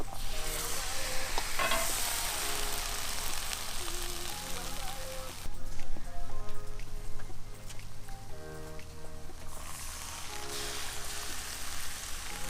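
Liquid poured into a cauldron of khashlama with meat and vegetables over a campfire, a steady splashing pour that rushes loudly and then eases into a bubbling hiss, with the flow changing partway through.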